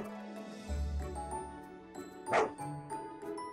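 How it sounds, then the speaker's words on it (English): A dog in the farming video game Fantasy Farming: Orange Season gives a short bark or yip amid light jingly game music and sound effects, brief and moderately loud. "Do we know this dog?"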